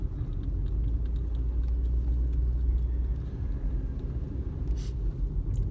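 A car driving along a Barangay road, heard from inside as a steady, close low rumble of engine and tyres that holds evenly throughout, with a faint jingle of keys and no talk.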